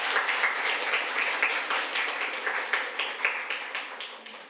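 A room of attendees at a parliamentary briefing session claps at moderate volume, with individual claps distinct within the sustained applause over several seconds.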